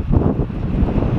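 Steady, heavy wind buffeting the microphone, a loud continuous low rumble with gusty swells throughout.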